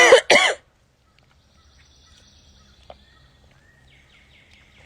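Two sharp, loud coughs come at the very start, close to the mic, followed by near silence with faint distant bird chirps in the background.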